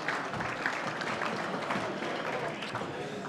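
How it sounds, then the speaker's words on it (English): Audience applause at an awards night for a netball association, steady dense clapping filling the room throughout as a presenter comes up, with cheering voices mixed in. "Round of applause for Paul as he comes up."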